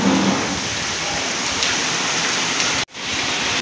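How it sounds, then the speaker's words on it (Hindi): Heavy, continuous rain pours down during a flooding storm in Rohtak, a dense steady roar that holds loud and unbroken before a brief cut and then resumes. "बड़ा कॉन्टीन्यूसली बारिश हो जा रही है और कितनी तेज हो रही है आप आवाज़ से ही गैस कर सकते हो"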